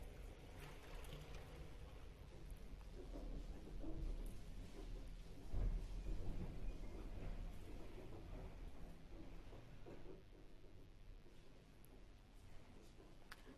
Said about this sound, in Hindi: बेटा बहुत भयानक तूफान आया है यहाँ पे।